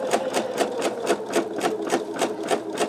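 An embroidery machine stitching a sugar skull design, rapid even needle strokes repeating at about four per second, close, loud and mechanical, with no talk.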